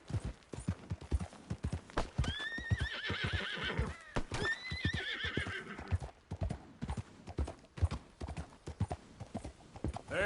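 Horse in Red Dead Redemption 2 trotting and galloping with steady rhythmic hoof clip-clops and two loud whinnies partway through. The sound is close and continuous, and no speech is heard.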